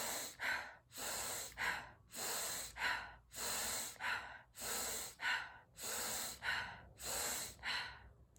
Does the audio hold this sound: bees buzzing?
no